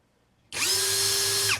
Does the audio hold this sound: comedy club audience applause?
no